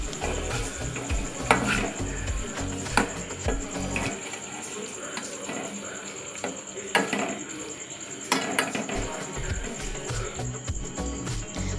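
Garlic cooks in butter while a utensil stirs and scrapes the pan, giving soft sizzling under repeated metallic clinks and knocks at an uneven pace.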